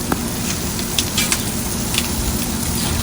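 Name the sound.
seasoned steaks sizzling on a grill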